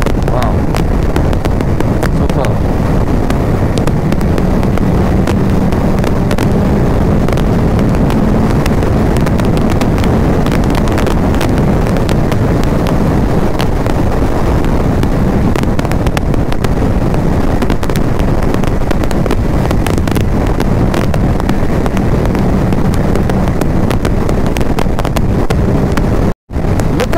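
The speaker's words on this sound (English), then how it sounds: "It's all windy today." Wind roars over the microphone of a Kawasaki Ninja 1000 motorcycle riding a highway past windmills in India, a loud, continuous buffeting rumble with engine and road noise blended in, cutting out briefly near the end.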